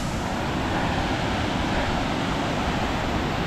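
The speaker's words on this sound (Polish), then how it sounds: "Nie wiem, czy mnie słychać, bo wodospad naparza" A powerful mountain waterfall on the climb of Mount Aragats in Armenia roars close by, a loud, steady, broadband rush of falling water with no pauses and no voices.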